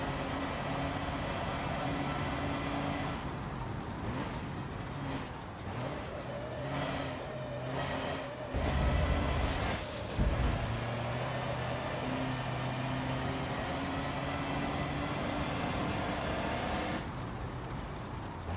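Damaged truck engine in the Forza Motorsport 7 racing game, a steady rough drone with harmonic tones that swells and revs around the middle, running continuously without talk.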